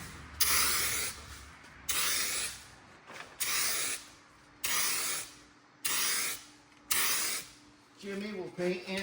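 Spray paint can hissing onto a Dodge Dart in repeated bursts, about six sharp sprays separated by short pauses, close and fairly loud, with a voice briefly at the end.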